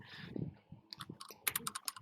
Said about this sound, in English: I'll let you know when I'm done typing it